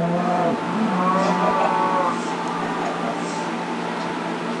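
A low, drawn-out cow moo from the game Minecraft plays continuously over a steady background hum, with no clear talking.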